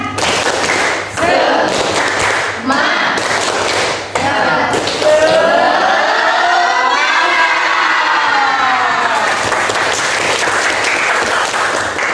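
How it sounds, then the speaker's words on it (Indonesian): A group performs a rhythmic spirit clapping chant in a facilitator training session, loud patterned claps with chanting voices, cheering and shouts, including a sustained sung passage midway before the clapping resumes. "Ibu minta satu tepuk semangat dulu"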